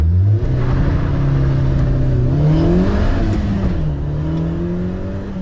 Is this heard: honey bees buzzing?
no